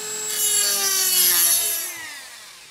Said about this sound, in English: what I'm gonna do is run the Dremel along there